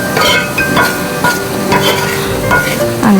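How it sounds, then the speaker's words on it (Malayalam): Masala-coated mushrooms stir-fried in coconut oil in a kadai give a loud, dense sizzle, with repeated utensil scrapes and clinks against the pan in a quick, uneven rhythm, very close. "അങ്ങനെ നമ്മുടെ കൂണും ചേർത്തു. ഇനി നന്നായിട്ട് വഴറ്റി മൂപ്പിച്ചെടുക്കുക."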